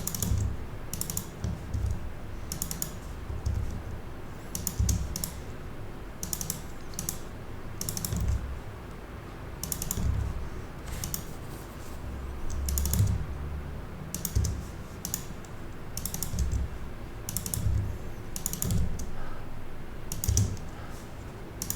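Steady typing on a computer keyboard, close up, with quick bursts of key clicks and short pauses between words over a soft low room hum; nobody speaks.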